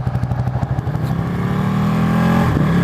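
A Ducati 899 Panigale motorcycle engine fires up with a brief clattering start, then settles into a loud, steady, close idle that rises slightly.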